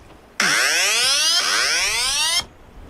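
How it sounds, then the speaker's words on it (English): A sailboat's anchor alarm goes off in windy weather off the Flinders Islands, giving two loud electronic sweeping tones back to back, each about a second long, then cutting out. "that's our anchor alarm. Saying we're 42 meters in the other direction."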